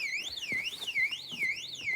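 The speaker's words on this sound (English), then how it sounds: "cool alarm, hey, isn't that cool?" Electronic alarm sounding continuously, a high siren tone sweeping up and down in repeated wavering cycles, steady and fairly loud throughout.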